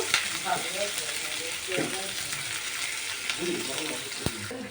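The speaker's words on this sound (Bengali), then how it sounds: "পেঁয়াজটাকে আমি ভালো করে একটু ভাজা ভাজা করে নেব" Onions sizzle steadily in a hot pan, a constant crackling hiss with occasional stirring scrapes and a sharp clink.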